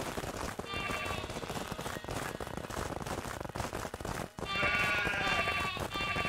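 Sheep in the video game Craftopia bleat repeatedly over a busy, clattering game soundscape, the calls clearest near the start and again loudly near the end.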